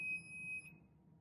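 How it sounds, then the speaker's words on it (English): The powder sensor alarm on a Dillon XL750 reloading press gives a single steady high-pitched electronic beep. It sounds for about half a second and then stops, leaving low background hum. "bear with me on the alarm"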